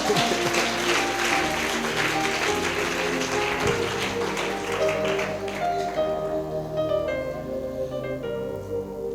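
A church congregation claps together in acclamation of Jesus, a loud dense round of applause that thins after several seconds as sustained instrumental tones carry on beneath.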